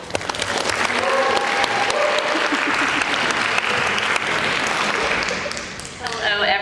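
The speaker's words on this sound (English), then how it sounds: "please join me in a round of applause in welcoming Jen" Sustained audience applause welcoming a guest speaker at a graduation-themed talk, steady dense clapping with a few whoops, fading near the end before a voice begins.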